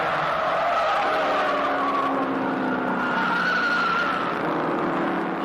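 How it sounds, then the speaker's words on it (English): Ford race cars racing at the 1970 Bathurst 1000, with loud, close engine roar and squealing tires rising and falling as cars sweep past, no talk. "Moffat's lead over McPhee has been narrowed as the Fords continue their dominance."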